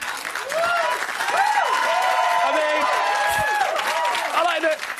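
Studio audience clapping on a celebrity talk show, a ragged round of hands that starts thin and fills out, with people talking and laughing over it.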